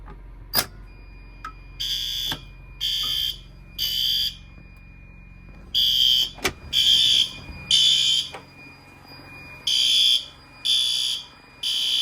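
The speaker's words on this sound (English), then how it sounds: "meaning the fire alarm system's gone off" Building fire alarm system going off after a pull station test: a loud electronic horn blasting in repeated one-second bursts with short gaps, plus a steady high tone and a few sharp clicks, with no talking.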